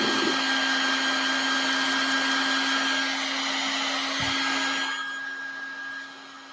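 A heat gun blows a steady, loud whooshing hum while warming a decoration on a tissue box, holding constant before easing down and trailing off near the end.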